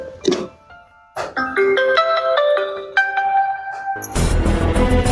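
A mobile phone rings with a clear stepped melodic tune for about three seconds, bracketed by brief noisy bursts before and a rush of broadband noise after, with no voices.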